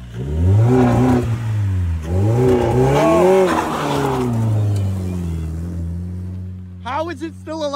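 A Chrysler car engine with a blown head gasket, treated with eggs, revs loudly and roughly in rising and falling surges, then settles to a steady idle before a voice speaks at the end.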